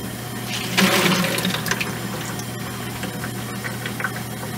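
Water drawn from a barrel into a bucket for rinsing tumbled rocks gives a short gushing, splashing burst that fades into a low steady hum and faint trickles.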